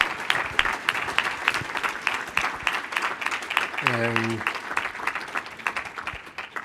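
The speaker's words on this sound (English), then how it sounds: "You can give them a round of applause." An audience at a family member update meeting claps for the panel in sustained, dense applause throughout, with a voice briefly speaking over it partway through.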